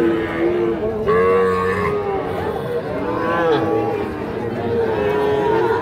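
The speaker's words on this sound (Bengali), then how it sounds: "এগুলো সব শাহিওয়াল ষাঁড় বাচ্চা" Young Sahiwal bull calves mooing at a crowded rural cattle market, several drawn-out calls overlapping close by, with people talking and general market chatter underneath.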